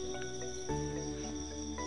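Crickets chirp inside a breeding box, a steady close insect trill running continuously with faint layered tones beneath, no voices present.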